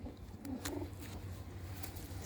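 A female pure Ratta pigeon, red and white with red eyes, coos softly in low, throaty rolls that repeat a few times, faint and close.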